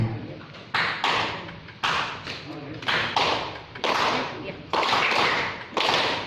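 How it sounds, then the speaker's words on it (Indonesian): Rhythmic hand clapping accompanying a Sundanese-style sangkolangan chant at an Indonesian language-month school event, falling into a repeating two-then-one pattern; sharp, fairly close claps with voices chanting and talking underneath. "Jadi tepukannya tepukan mesra saja, 2 kali, 1 kali, 2 kali, 1 kali."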